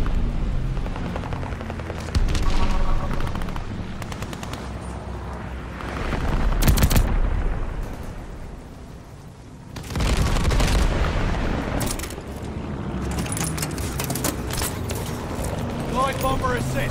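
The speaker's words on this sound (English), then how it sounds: "Allies called a bombing run." Call of Duty: Vanguard bombing run: heavy booming explosions and scattered gunfire swell and fade in waves, with a quieter lull midway before another loud surge, while voices talk over the battle.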